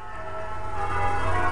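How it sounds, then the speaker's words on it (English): Church bells ring at St. Peter and All Hallows Church in West Huntspill, heard from a nearby field outdoors as a steady, sustained peal with overlapping tones that swells slightly louder toward the end. "The bells have started again"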